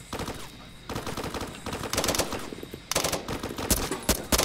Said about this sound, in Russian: Три выстрела, ни одного попадания.